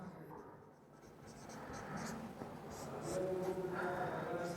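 Pen or pencil writes steadily on paper, a soft continuous scratching up close that grows a little louder toward the end, with no one speaking.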